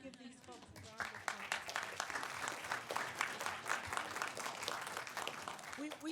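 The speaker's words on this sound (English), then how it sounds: "You just give these folks a round of" Sustained applause from an audience at a city council meeting, a steady dense patter of clapping that fills the room for several seconds with a few voices and cheers mixed in.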